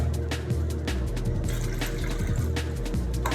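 Runoff water from a grow setup is poured out into a drain, making a continuous splashing, gurgling pour with bursts of sloshing. It is close and fairly loud, with no talk.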